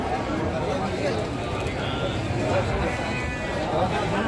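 Sheep at the Tanjungsari livestock market in Sumedang bleat amid a busy, continuous crowd murmur, with people talking throughout over dense market background noise.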